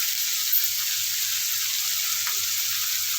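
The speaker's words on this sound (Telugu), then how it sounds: "ఐదు నిమిషాలు వేయించుకోవాలి" Broad beans (chikkudu kaya) fry in a pan with a steady, even sizzle and hiss that stays close and constant throughout, with no voices.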